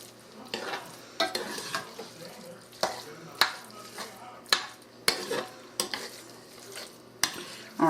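Fajita-style stuffed pepper filling is stirred in a pan, the spoon scraping and clacking against the metal in a dozen or so irregular strokes over a low, steady sizzle, close and fairly loud, with no voices.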